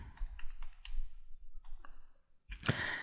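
Computer arrow keys tapped in a quick series of light clicks, several presses in a row, then a pause and a few more, ending with a louder clack and a short noisy burst.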